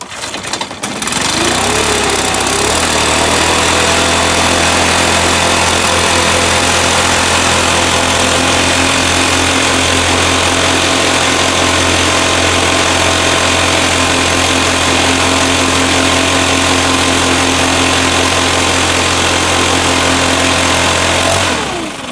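Two-stroke leaf blower engine catching from a cold start and settling into a steady idle, a loud continuous buzzing drone that holds evenly for about twenty seconds with no talking over it.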